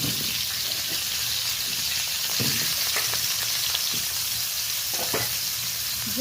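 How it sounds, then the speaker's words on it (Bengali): Cubed potatoes and kohlrabi fry together in hot oil in a pan, sizzling loudly and continuously, with occasional scraping clicks from stirring. "আমি আলু ওলকপিটা একসাথেই ভেজে নেবো একটু কষিয়ে নেবো"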